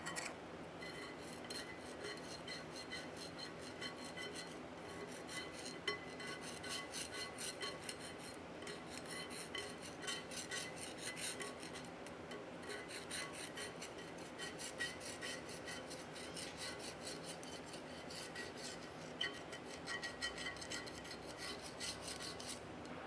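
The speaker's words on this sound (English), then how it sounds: "all that dried crap I'm scraping out of there is grease, oil, and chips" Steel pick scraping dried grease, oil and metal chips out of the scroll of an old three-jaw lathe chuck, a faint, continuous gritty rasping and rubbing that goes on without pause.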